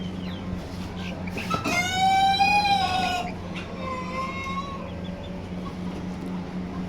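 Chickens resembling jungle fowl at a Kuwaiti animal auction, a loud drawn-out squawking call rising over a steady murmur of clucking birds.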